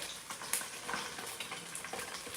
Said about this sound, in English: most of that popping, like I said, comes from the fact that the meat has been boiled